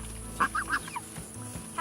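Ducks on a broiler farm giving a few quick honking quacks in a short cluster, close and moderately loud, then fading into quieter farmyard background.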